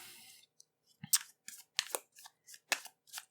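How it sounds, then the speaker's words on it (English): A tarot card deck shuffled by hand, a run of about eight crisp papery riffles and snaps, close and clear, in an otherwise quiet room. "so I'm shuffling your tarot right now."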